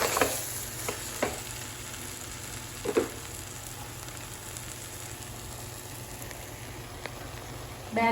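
Masala frying in a pan for bread chili, sizzling softly and steadily while a spoon stirs it with a few light scraping knocks against the pan, close and fairly quiet.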